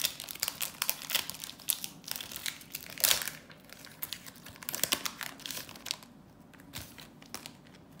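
A Pokémon Radiant Destinies booster pack being torn and unwrapped, with close, steady crinkling and crackling of the foil wrapper in bursts and sharp rips, no voices.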